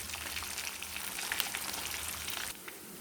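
Kattе parigela fish frying in hot oil in a pan, giving a soft, steady crackling sizzle with scattered pops that eases slightly near the end, with no voices.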